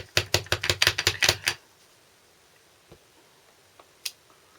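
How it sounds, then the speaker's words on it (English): Backing is peeled off stamps in a quick run of sharp ticking and crackling, about eight close bursts over a second and a half, then near silence with a few faint clicks. "I've got to peel off the backing so that they're sticky"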